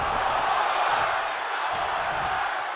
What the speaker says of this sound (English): The crowd chanting one more time.